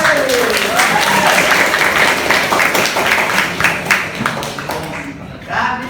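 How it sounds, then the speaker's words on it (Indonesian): Classroom students applauding together after a rhythmic clapping game, a steady dense patter of many hands that thins and fades toward the end, with a faint voice briefly underneath. "tepuk tangan untuk kita semua."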